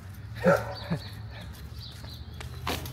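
A dog gives a couple of quick barks close by, followed by quieter yips over a low background hum.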